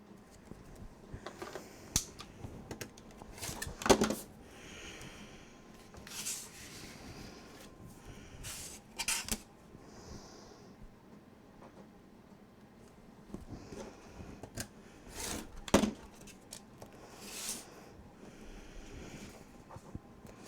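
Scissors cut through patterned paper while building a coffin-shaped Halloween album base, giving several separate crisp snips and slices spread across a quiet room, close to the microphone.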